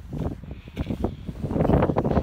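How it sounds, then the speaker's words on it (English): Strong gusty wind outdoors near trees, buffeting close and steadily with rising and falling rushes, no voices over it. "it's very windy here actually, because it's not supposed to be like this, but it's really windy here"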